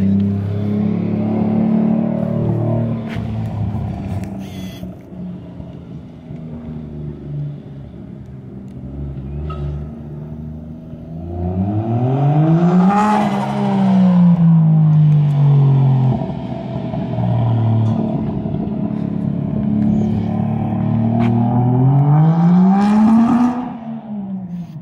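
A 1JZ-engined street car revs hard several times, the pitch climbing and falling, with a rough, stuttering breakup at the top of each rev, close and loud.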